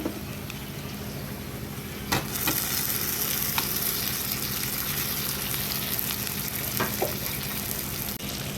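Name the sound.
chicken pieces frying in a pan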